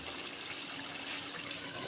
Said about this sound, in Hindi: हमने गरम पानी इसके अंदर डालना है 1 कप